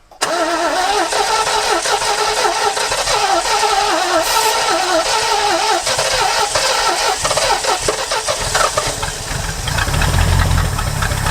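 An old Lincoln Continental barn-find car engine, unrun for 35 years, roars loudly and continuously after starting, revving rough and uneven with knocking and rattling, close by throughout.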